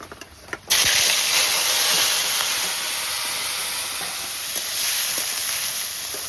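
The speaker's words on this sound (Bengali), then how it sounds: "কাঁকড়া চিংড়ি মাছ সব একসঙ্গে ভাজা হচ্ছে।" Crab and shrimp dropped together into hot salted oil burst into a loud, sudden sizzle, then settle into a dense, steady frying hiss close by.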